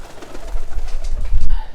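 A Salara Teddy pigeon coos just after release, a short low throaty burst of cooing close to the microphone with some background noise.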